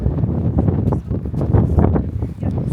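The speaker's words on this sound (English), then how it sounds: "Very windy, but it's beautiful." Steady gusting wind at the summit of Stone Mountain buffets the microphone with a low, rumbling roar that rises and falls throughout.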